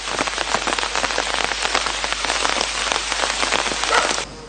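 Heavy, continuous rain pours down during a prolonged downpour in Mullaitivu district, Sri Lanka. The hiss of drops striking surfaces is loud and steady throughout and cuts off abruptly just before the end.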